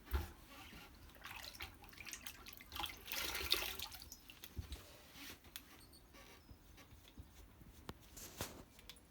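Running tap water splashes over a water-based linocut ink roller being cleaned in a sink, a steady near stream with irregular splashes and drips and no speech.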